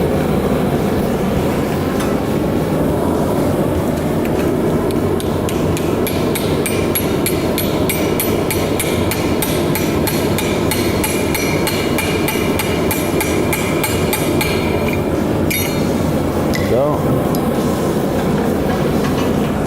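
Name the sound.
blacksmith hammering metal on an anvil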